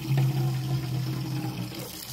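Water runs steadily from a campsite tap while someone fetches water at Long Sault, Canada, a continuous close splashing and gushing with no talk.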